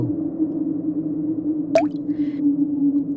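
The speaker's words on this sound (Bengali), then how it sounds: "এত রাত্রে এখানে জল পড়ার শব্দ আসছে কোথা থেকে?" A single cartoon water drip lands in a quiet night scene, one sharp close plop over a steady low hum.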